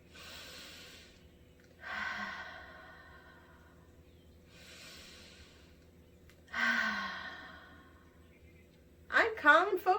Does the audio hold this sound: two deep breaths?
yes